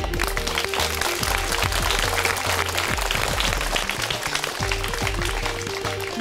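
An audience claps through a village talent show, a dense sustained applause with music or a droning tone running underneath.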